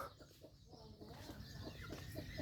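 Chickens clucking at a rural fish sauce factory, several short rhythmic clucks from nearby fowl over a soft background hum, fairly faint but distinct throughout.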